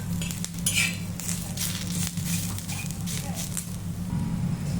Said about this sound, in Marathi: कांदा आपण असा छान ब्राऊन होईपर्यंत भाजून घेऊ कांदा इकडे आपला आता भाजत आलेला आहे